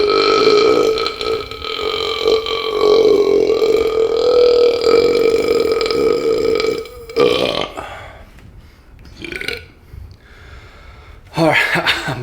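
Loud, drawn-out burps from a person overfull after a spicy Indian mukbang meal, one long resonant belch followed by shorter gulps and smaller burps, close to the microphone.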